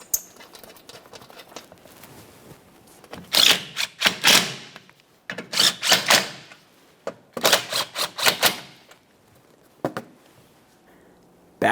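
A ratchet clicks in quick bursts while tightening shield mounting hardware on a 2010-2013 Kia Forte Koup 2.4L, several rapid rattling runs separated by pauses, close and fairly loud, ending with a couple of light knocks.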